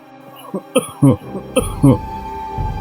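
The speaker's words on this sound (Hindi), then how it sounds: "वो बूढ़ा जोर से खांसा।" Several loud, harsh coughs from an old man burst out close by in quick succession, with short pauses between them.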